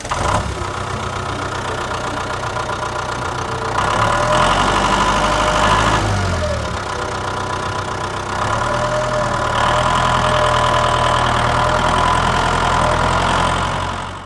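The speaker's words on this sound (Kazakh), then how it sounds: "Бұл трактор." A tractor engine idles steadily and close by, a low, even rumble with a mechanical knock that swells louder for a few seconds twice before settling back, with no voices.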